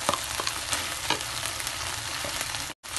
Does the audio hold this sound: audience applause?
no